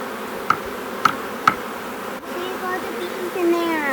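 Honey bees gather at a hive feeder during a July drought, giving a low steady insect hum with a few sharp clicks early on and faint background noise.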